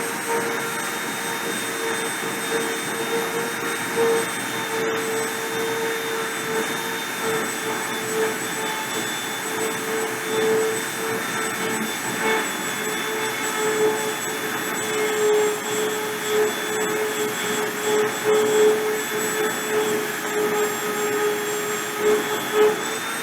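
A printer runs with a continuous whirring drone and faint high steady whines, holding a constant level for over twenty seconds with small fluctuations and no voices.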